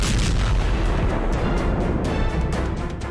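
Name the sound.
explosions as retreating Russian army blows up bridges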